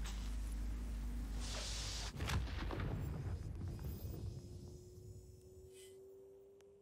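A mining rock bursting apart under a laser in Star Citizen: a sudden heavy boom, then rumbling debris that slowly fades beneath a steady rising tone.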